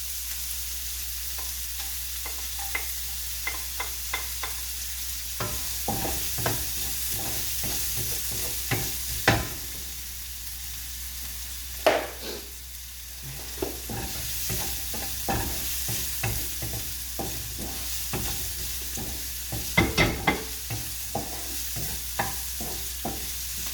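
Garlic frying in oil in a pan for Filipino beef mechado, a low steady sizzle broken by clear scrapes and knocks of stirring, sharpest in a few louder strokes, no voices.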